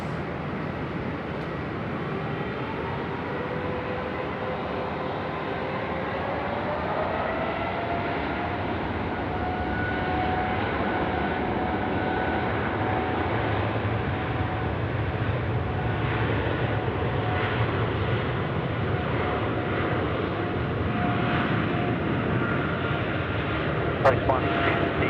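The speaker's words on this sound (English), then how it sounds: "it is time for the FedEx 777 now. It's departing runway 16 right." A FedEx Boeing 777 departs runway 16 right at Sydney Airport at night, a steady distant jet roar building slowly and holding loud across the whole stretch, with a broad rumbling wash and faint tonal whine.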